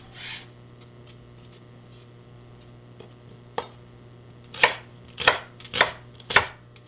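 Knife chopping onions on a board for rice pilaf, a few faint taps at first, then four loud, evenly spaced chops close by, with no talking.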